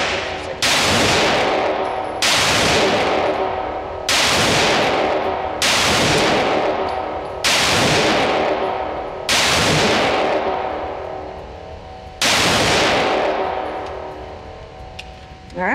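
Six loud gunshots from an HK CC9 micro compact 9mm concealed-carry pistol fired at a range, spaced evenly about every two seconds, each a sharp crack followed by a long decaying echo.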